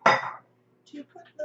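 A small bowl picked up and set down in a kitchen, a brief close clatter of dishware followed by a few lighter knocks and clinks.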